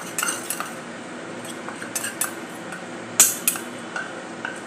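Salt, chaat masala and Kashmiri red chilli are mixed in a bowl with a spoon, giving sharp, irregular metallic clinks and light scrapes, close and without talk.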